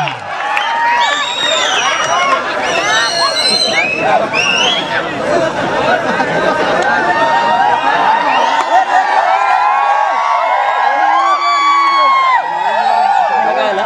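A crowd at a kabaddi match cheers and shouts loudly and continuously, with excited whoops rising over a dense babble of voices throughout.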